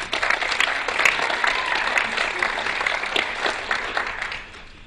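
A studio audience gives a dense, steady round of applause for the competing teams on a Texas quiz show, many hands clapping together at full strength before tapering slightly at the end.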